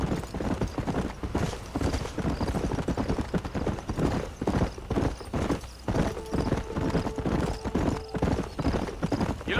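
A horse gallops steadily in Red Dead Redemption, its rhythmic clip-clop hoofbeats loud and continuous with a brief whinny partway through.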